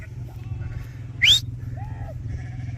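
Sheep on a hill farm, ewes with mule lambs, give a short, moderately close bleat over a low steady outdoor rumble, and a fainter call follows.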